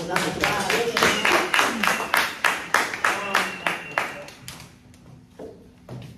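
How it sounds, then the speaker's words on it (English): A small group claps in a steady rhythm of about a dozen sharp claps, close by, fading out toward the end, with voices faintly underneath. "clap up for these, y'all"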